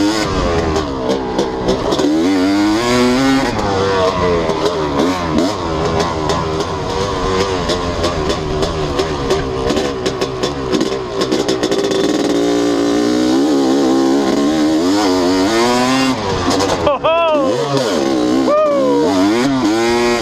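A Honda CR250 two-stroke dirt bike engine revs hard while riding, close and loud, its pitch sweeping up and down through repeated throttle blips and gear changes for the whole stretch.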